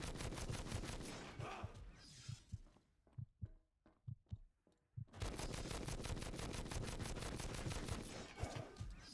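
Rapid automatic gunfire in the Xbox 360 action game Too Human, loud and dense bursts with a rhythmic pulse, breaking into a few separate heavy shots before a long sustained volley resumes; no talking.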